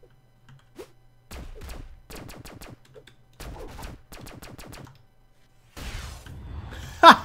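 Bursts of gunfire from weapons in the Brawlhalla fighting game, several rapid clusters of sharp repeated shots separated by short pauses, fairly close and loud, ending in a bright impact.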